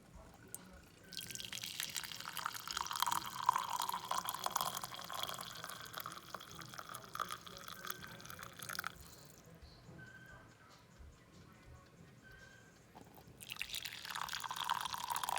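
French press coffee is poured into a cup in a steady, close stream that runs for several seconds, pauses with a few faint drips, then resumes softly.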